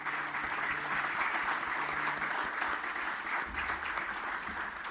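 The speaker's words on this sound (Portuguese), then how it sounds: "já mesmo fica um aplauso para ele pelo excelente trabalho" Live show audience applauding an absent artist, a steady, dense crowd clapping sound, moderately loud and even, with faint low background hum beneath it.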